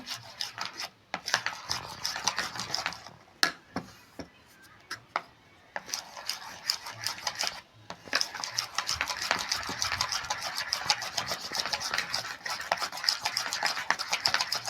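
Batter for pumpkin flower fritters being beaten by hand in a bowl, a close, rapid scraping and rubbing rhythm with brief pauses, then steady continuous whisking, with a voice talking over it.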